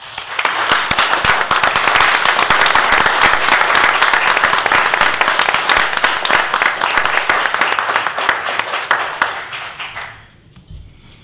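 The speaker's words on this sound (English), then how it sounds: "let's give the Vietnam War veterans a round of applause." Sustained applause from a crowd at a meeting, honouring Vietnam War veterans, with dense clapping and a few sharp pops throughout before it fades out near the end.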